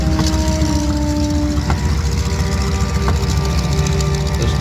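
A Packard-built, Rolls-Royce-designed 12-cylinder inline aircraft engine drones loud and steady at an air show, a continuous mechanical roar with faint whining tones and no talk over it.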